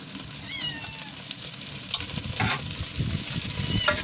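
Vegetables with browned onions fried and stirred in hot oil for a village-style veg pulao, a steady close sizzle with scraping stir strokes and a few brief high squeaks.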